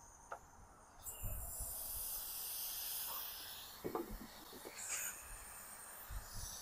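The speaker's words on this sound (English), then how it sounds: "there is propane leaking a little bit" Propane hisses steadily from a 1 lb tank being refilled, a soft airy leak with a few faint clicks and handling noises close by.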